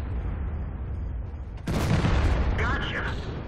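An IS-4 heavy tank's cannon fires in World of Tanks, a sudden loud boom cutting in partway through and rumbling on, with game effects and faint voices trailing after it.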